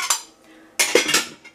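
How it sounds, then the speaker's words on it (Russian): Dishes and cutlery clink and clatter as they are sorted in a home kitchen, with two bursts of bright metallic and ceramic clanks, the second longer and busier, close by with no speech. "Это я тут посуду разбираю."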